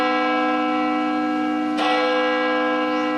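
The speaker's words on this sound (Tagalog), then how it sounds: "Kanina pa tayo nakatayo dito at nagpapatunog ng kampana" A church bell swung by hand from a rope in a bell tower rings out with a loud, sustained metallic tone, struck again partway through and left ringing on its own.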